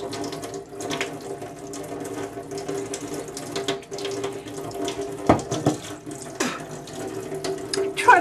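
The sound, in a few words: water running from a tap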